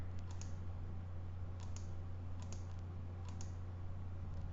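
A computer mouse clicks on website menu options: a handful of crisp, quiet single clicks spaced about a second apart over a steady electrical hum.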